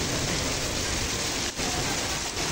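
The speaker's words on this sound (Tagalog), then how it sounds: "Umuulan." Rain falling steadily at a summer pool resort, a dense, even hiss of drops that is close and fairly loud, with no voices over it.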